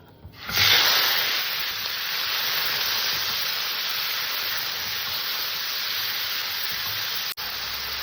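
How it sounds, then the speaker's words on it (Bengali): Chopped tomatoes hit hot mustard oil with dry chilli and five-spice in a pan, bursting into a loud hiss that settles into a steady, even sizzle for several seconds. "ভাজা হয়ে গেছে আমি টমেটো ঢেলে দিলাম"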